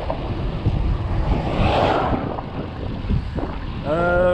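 A headwind buffets the microphone of a cyclist riding a Moser bike in a continuous low rumble, swelling and easing, with a brief tonal whine near the end.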